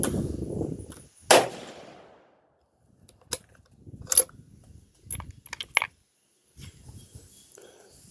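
A single rifle shot from a Smith & Wesson Match rifle firing a 62-grain soft point load with a 25.5-grain charge and CCI #400 primer, a sharp loud crack with short decay, followed by faint clinks and handling noises.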